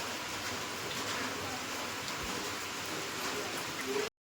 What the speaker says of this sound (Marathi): रिमझिम चालू आहे पाऊस.